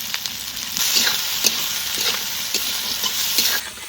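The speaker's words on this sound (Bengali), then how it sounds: "এবার পেঁয়াজটা একটু ভালো করে ভেজে নিই" Onions fry in oil with bay leaf, whole garam masala and cumin in a pan for village-style mutton, a steady close sizzle broken by regular scraping stirs of a spoon.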